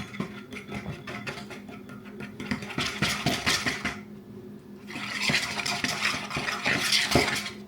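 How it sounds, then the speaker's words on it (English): Spoon scraping and clinking in a bowl while beef gelatin powder is mixed into tortilla batter, a steady close rhythmic stirring with brief pauses and no talking. "Make sure I mix it up really well so it doesn't clump."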